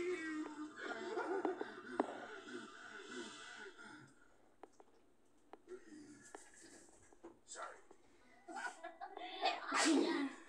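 A person sneezes near the end of a quiet stretch, a short sharp burst after softer breathy snorts and murmurs.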